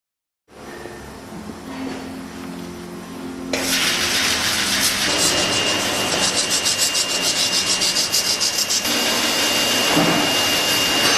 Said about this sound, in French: Il suffit d'actionner l'interrupteur pour lancer l'aspiration et de le planter dans le bas de la durite du radiateur